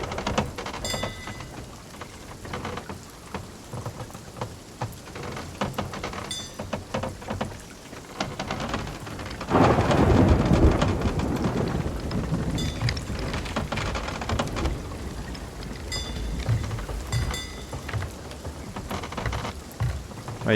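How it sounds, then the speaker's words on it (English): Steady heavy rain and a low rumble of thunder fill a stormy scene at sea in the pirate game Sea of Thieves, swelling louder midway, with a continuous wet hiss throughout. "Rain."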